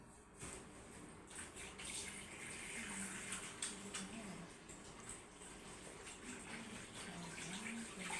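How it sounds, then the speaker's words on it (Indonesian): Tap water runs steadily into a sink while hands are washed beneath it, a continuous splashing wash with faint rustling, heard alone in a clinical setting at a midwife's consultation. "saya cuci tangan dulu ya Ibu."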